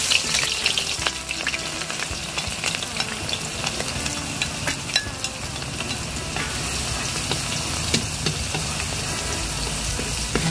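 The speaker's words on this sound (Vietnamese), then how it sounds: "Giờ dầu nóng rồi nè, mình cho hành với mình thêm." Green onions sizzle and fry in hot oil alongside aged ginger for steamed fish, a steady dense crackle with scattered pops running the whole time, close and fairly loud.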